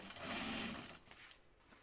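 A sewing machine edge-stitches wax cotton in one short, quiet run that fades toward the end, close by and alone.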